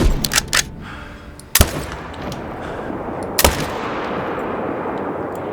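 Rifle shots fired at foxes in a hunting video game on the Emerald Coast map: a quick cluster of sharp cracks at the start, then two more single loud shots spaced apart, each trailing off into quiet ambience.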